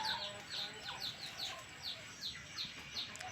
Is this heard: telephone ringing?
no